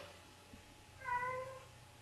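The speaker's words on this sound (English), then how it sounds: "I don't know why cats love to make noise at the worst times" A single clear cat meow rises midway through, fairly close, over a quiet room background.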